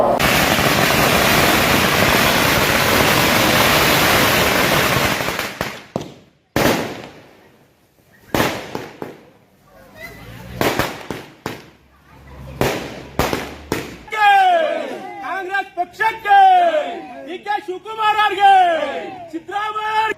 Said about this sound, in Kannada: ಕಾಂಗ್ರೆಸ್ ಕಾರ್ಯಕರ್ತರು ಪಟಾಕಿ ಸಿಡಿಸಿ ಸಿಹಿ ಹಂಚಿ ಸಂಭ್ರಮಿಸಿದರು